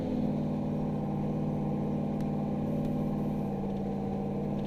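A powerful truck engine pulls steadily under throttle while cruising around town, a continuous mid-pitched drone heard from inside the cab, fairly quiet and unbroken, with no talking.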